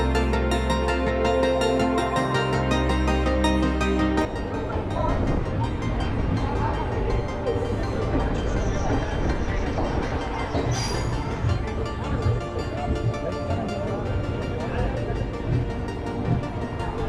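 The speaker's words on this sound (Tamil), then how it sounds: "இந்த ட்ரெயின் விழுப்புரத்துலேருந்து 5:45க்கு ஒரு 20 நிமிஷம் கேப் கழிச்சு கிளம்பியிருக்கு" A train pulls out of Villupuram railway station with a steady heavy rumble of wagons and rails, some metallic squeals and clatter, loud and close throughout, with a voice speaking over it.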